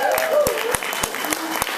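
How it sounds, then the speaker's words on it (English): Brief applause from an audience at a training event welcoming a man named Eric, with scattered distinct claps and a voice speaking over the start. "Let's give Eric a round of applause."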